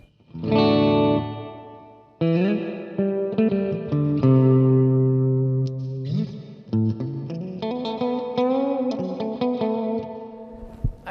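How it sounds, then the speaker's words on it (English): An electric guitar through an EHX Canyon delay pedal plays sustained notes and short phrases, washed in lush reverb with trailing echoes, loud and up close, with no speech. "if you turn the feedback all the way down, you get just reverb"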